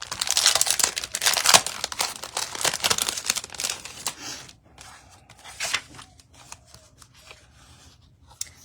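Paper gift card holder being handled up close: loud crinkling and rustling for several seconds, then softer, sparser paper movements and taps.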